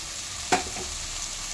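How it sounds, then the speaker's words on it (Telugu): Pieces of ivy gourd fry in oil in a pan with a faint, steady sizzle and a single quick clink of a stirring utensil partway through. "సో ఈ దొండకాయల్ని ఇలా వేసి కలుపుకుంటూ ఉండాలి."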